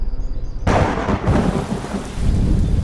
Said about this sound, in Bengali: বৃষ্টি বন্ধ হয়ে গেল